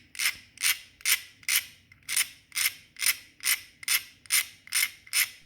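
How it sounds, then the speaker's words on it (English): Sandpaper rubbing on the hinge of a Zippo Replica 1935 lighter: about a dozen steady, evenly spaced rasping strokes, close and fairly quiet, with no talking. "When sanding, you need to pay close attention to avoid over-sanding, which can make the problem even worse."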